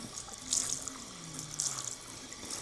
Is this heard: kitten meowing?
no